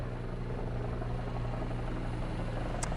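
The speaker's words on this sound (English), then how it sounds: "they do have 4 helicopters, the C-130 working as well" Firefighting helicopters circle over a wildfire in Sorrento Valley, giving a continuous heavy rotor drone that stays steady and fairly close throughout, with no talking.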